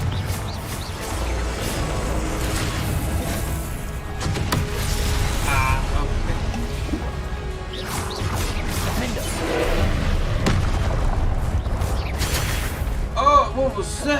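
Confringo blasting spells explode in the Hogwarts Legacy video game, with sharp crashing bursts and booms scattered over a busy game soundscape while a person talks and calls out over them.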